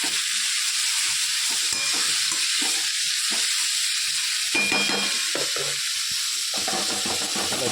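Tindora (ivy gourd) frying with masala in oil over half heat, a dense steady hiss and sizzle with intermittent bursts of stirring and scraping, loud and close throughout, no voices.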